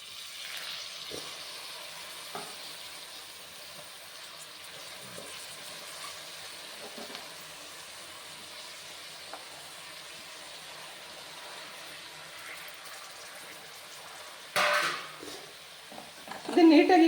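Fenugreek leaves stirred in hot oil in a pan give a soft, low sizzle and faint scraping, with a louder clatter of the utensil against the pan near the end.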